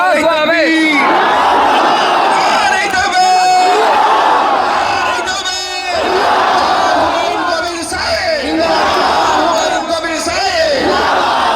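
A large crowd at a mosque foundation gathering chants takbir in loud, sustained, swelling waves of many voices, with individual callers rising above the mass.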